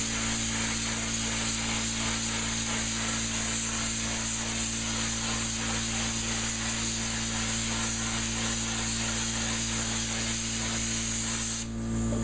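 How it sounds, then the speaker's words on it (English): A cup spray gun hisses out cabinet finish during kitchen cabinet refinishing, a loud, continuous, even spray held for about twelve seconds before cutting off abruptly at the end. "And then we'll spray just a little bit"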